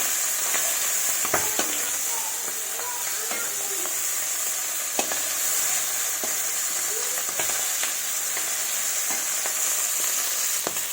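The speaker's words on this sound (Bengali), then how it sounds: "বেশি ভাজবো না, হালকাই ভাজবো।" Tangra fish fry lightly in a pan, giving a continuous close sizzle with occasional sharp pops and clicks from turning the pieces, and no talking.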